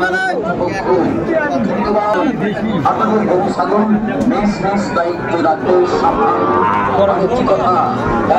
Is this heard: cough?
no